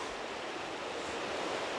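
Steady, dense roar of a waterfall in a rugged wild setting, heard from a hovering DJI Mavic 2 Zoom drone; broadband rushing water constant throughout, loud and unbroken, with no voices.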